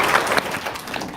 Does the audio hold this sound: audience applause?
yes